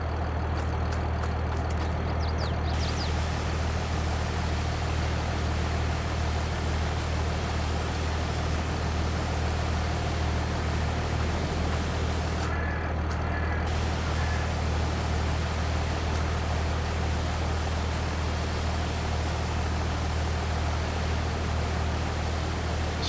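A tractor spraying a field in Farming Simulator 22, a steady, loud engine drone with a broad hiss from the sprayer that continues unchanged for over twenty seconds, with no voices.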